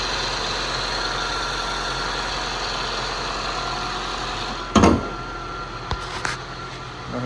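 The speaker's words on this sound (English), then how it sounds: "That's the motor running." A 2013 Honda CR-V EX-L's 2.4-liter engine idles with a steady, even hum, broken near the end by a brief clunk and a couple of small knocks.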